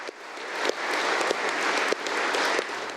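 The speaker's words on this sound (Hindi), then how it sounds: "पूरे 35 सेकंड तक लंदन का संसद भवन तालियों की आवाज से गूंजता रहा।" Sustained applause from British MPs in the chamber of Parliament in London, a dense, even wash of many hands clapping with no talk.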